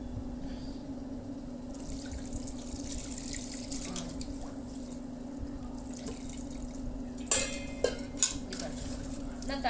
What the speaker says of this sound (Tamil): நான் தண்ணி ஊற்றணும், அப்போ தான் கெடாத இருக்கும்.